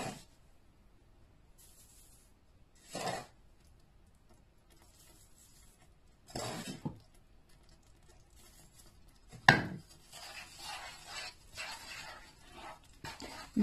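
A spoon scrapes around a bowl while a cooking mixture is stirred. Short, rough scraping strokes come in scattered bursts with quiet gaps between them, then grow more frequent and busier toward the end.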